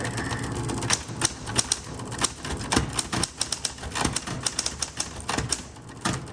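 A 1960s Spa Blue Coronet electric typewriter is typed on, giving a fast, irregular run of sharp mechanical key strikes over a faint motor hum, close and fairly loud.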